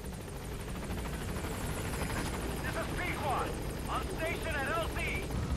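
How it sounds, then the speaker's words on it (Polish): A helicopter in the video game Metal Gear Solid V: The Phantom Pain gives a steady rotor drone in the background while someone talks over it. "Panie helikopter, pan tu wracaj od razu."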